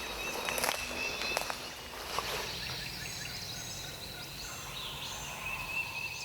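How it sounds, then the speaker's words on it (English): A wild turkey gobbler gobbles in the woods, a faint rattling call from a distance amid quiet outdoor ambience, footsteps and light rustling. "we can already hear this gobbler gobbling"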